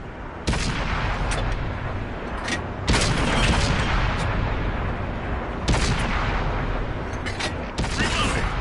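Tank cannon fire in World of Tanks: four heavy, booming shots spaced a few seconds apart, each followed by a long, loud rumble that fills the gaps between blasts.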